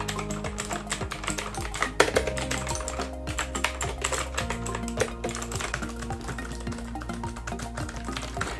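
Quick typing test on a Gamdias Hermes M3 low-profile mechanical keyboard, a steady run of soft, close key clicks and taps with occasional louder strokes, no talking.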